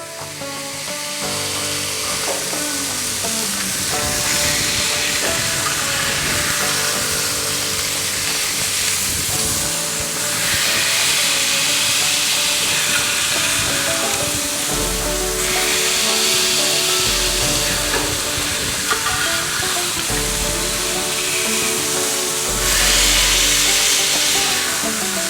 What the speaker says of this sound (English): Now we're going to go ahead and put on our Kobe beef patties. We're going to go ahead and smash them down now.